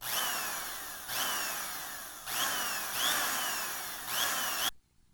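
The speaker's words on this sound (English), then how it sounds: "This is my screwdriver." Cordless power screwdriver whirring in four or five sustained bursts with brief pitch dips between them, loud and close, then stopping abruptly into silence.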